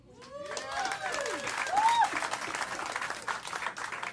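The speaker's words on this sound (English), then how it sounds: "Clap if you're married." Comedy club audience applauding during a stand-up set, a dense wash of clapping sustained for about four seconds, with voices calling out and whooping over it.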